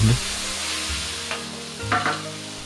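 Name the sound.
stir-frying pork with soy sauce and pepper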